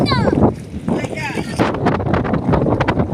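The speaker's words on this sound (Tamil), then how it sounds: "சரியான காத்து நண்பா காத்தடிக்காலம் காலம் ஆரம்பிச்சிட்டு" Strong wind gusting at the water's edge where young boys net fish with a mosquito net, a steady loud rush with buffeting on the microphone, under continuous talk.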